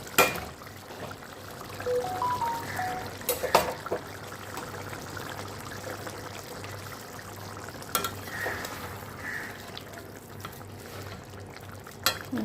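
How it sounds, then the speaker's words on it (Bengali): Paneer curry with capsicum, tomato, a little ghee and a touch of sugar simmers in a pan, a steady soft bubbling and sizzling with occasional stirring clinks and scrapes, fairly close and continuous. "আর একটু ফুটবে, তারপরে আমি নামিয়ে নেব"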